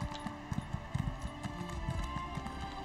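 Horse hooves clip-clop in a steady walking rhythm in The Elder Scrolls Online, close and clear over a bed of ambient game music, with no talk.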